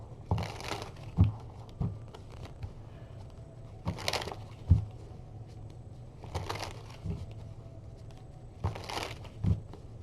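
Tarot cards being shuffled for a reading, heard as four soft bursts of riffling and crinkling at regular intervals, each with a low thump, close and fairly quiet with no talking.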